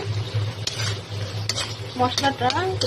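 Spices and water bubble and sizzle in a pan for a Malabar spinach and prawn curry, with a utensil stirring and scraping the pan, steady and close, with brief clinks near the end.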